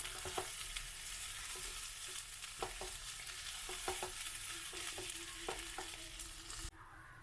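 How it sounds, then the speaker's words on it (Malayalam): Beetroot chickpea thoran being stirred in a pan, with gentle frying sizzle beneath a run of spaced spoon taps and scrapes, close and quiet, the hiss dropping away near the end. "നമുക്കിത് ഒന്നുകൂടെ ഒന്ന് ഇളക്കി ചേർത്തതിന് ശേഷം ഫ്ലെയിം ഓഫ് ചെയ്യാം"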